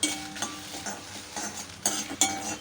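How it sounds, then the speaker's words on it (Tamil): Dried red chillies dry-roasted over medium heat in a kadai until crisp, heard as a soft crackle beneath repeated spoon scrapes and clinks against the pan. "மிளகாயை வந்து ஜஸ்ட் ஒரு ஒரு நிமிஷத்துக்கு மட்டும் அப்படியே வறுத்துக்கோங்க"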